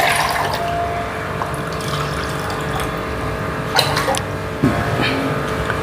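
Water pours steadily into a cooking pot for rice and split moong dal, a continuous close splashing rush with a couple of brief bumps along the way.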